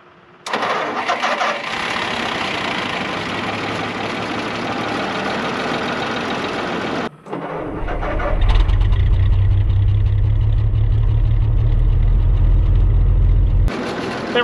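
WWII half-track engine being started after carburetor flooding trouble: a long loud cranking drone, a brief drop, then the engine catches and runs with a heavy, rough low rumble, close up and alone.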